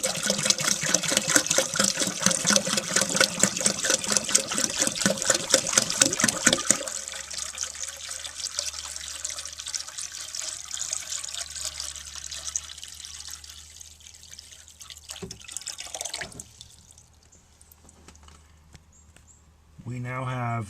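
A gallon of water is poured into the bowl of a 1954 Eljer Waco toilet, starting as a loud rushing splash for several seconds, then easing into a quieter trickle and drips with faint background noise.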